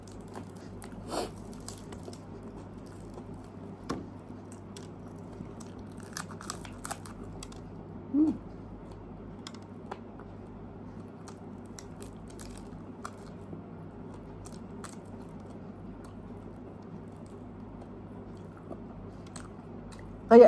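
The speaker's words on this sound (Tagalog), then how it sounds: "Malutong ang buto." Someone chews crunchy fried fish bones during a simple home meal of fish and vegetables, giving scattered soft crunches and occasional sharper cracks over a low steady hum, with no talking.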